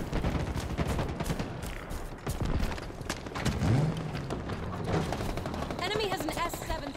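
Gunfire in the Halo Infinite video game, rapid bursts of shots crackling through a busy firefight with overlapping effects and voices calling out over the action.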